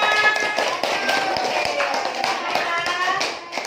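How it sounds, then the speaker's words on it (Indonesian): Classroom applause as pupils clap together after group work is reviewed, a dense patter of many small hands at moderate level, with voices mixed in throughout. "tepuk tangan kita semua"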